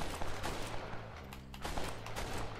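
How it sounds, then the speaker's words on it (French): A revolver fires rapidly in the video game Red Dead Redemption, a loud, dense burst of repeated shots that fills the whole moment. "Tellement cool le revolver dans le jeu, en fait c'est ça tire vachement vite"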